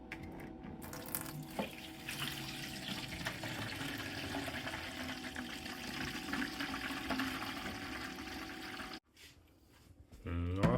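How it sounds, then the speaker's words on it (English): Dirty water pours and splashes steadily from a carpet steam cleaner's waste tank, a continuous close rushing that cuts off abruptly near the end before a brief clatter of handling. "I need to remove some of this dirty water from the waste tank"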